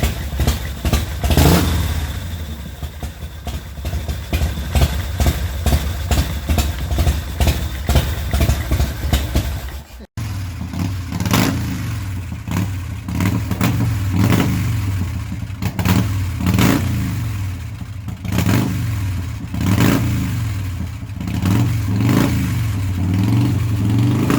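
Purple Harley-Davidson motorcycle engine, loud and close, idling with a deep uneven throb and then blipped into repeated revs, with a brief cut midway and a steady rumble throughout.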